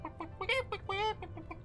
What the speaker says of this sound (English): What are you doing, chicken?